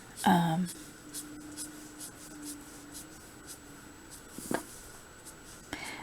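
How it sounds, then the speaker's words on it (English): Marker running across paper while drawing, producing light scratchy strokes in short bursts, faint under a person speaking. "If I want a little more texture, I just keep running this marker."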